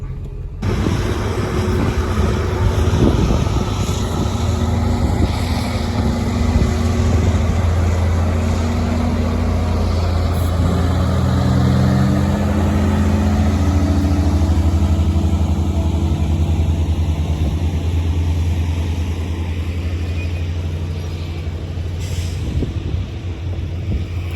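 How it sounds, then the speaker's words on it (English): A dump truck hitched to the front of a loaded triple road train tows it through a soft, sinking dip at a creek crossing during grain harvest, giving a loud, steady heavy diesel engine drone with low rumbling throughout. "got the dump truck on the front of it, going to pull it through, I think"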